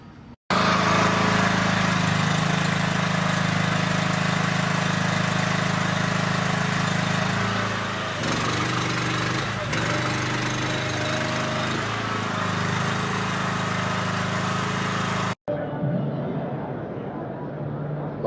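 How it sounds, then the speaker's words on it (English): A 13 horsepower gas engine powers a WDT winch rig fitted with a telescopic cylinder. It runs loud and steady for about fifteen seconds, then cuts off abruptly. "This is the 13 horse gas rig option with telescopic cylinder on the WDT."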